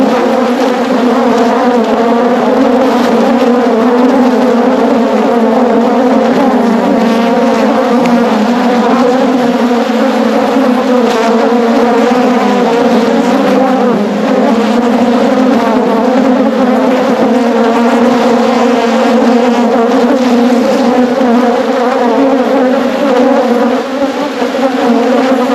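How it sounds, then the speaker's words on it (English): Agitated honey bees swarm loudly around an opened hive during a beekeeping inspection, their close, dense buzzing a constant droning hum with no pauses and no voices. "I just ticked off a lot of bees."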